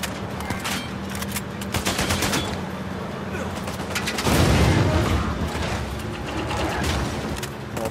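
Constant automatic gunfire fills a vehicle chase in Uncharted 4, with rapid crackling shots over a droning engine rumble and a heavier blast swell midway. Someone talks briefly over the action.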